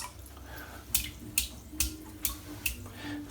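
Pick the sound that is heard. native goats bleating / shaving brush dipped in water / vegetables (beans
shaving brush dipped in water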